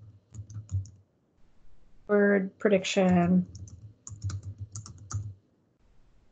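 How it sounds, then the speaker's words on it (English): Typing on a computer keyboard while word prediction runs in Microsoft Learning Tools, heard as scattered close key clicks in short bursts, with someone talking over the middle of the clip. "So you'll notice if I start typing"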